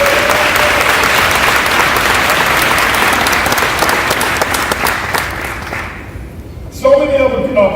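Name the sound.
round of applause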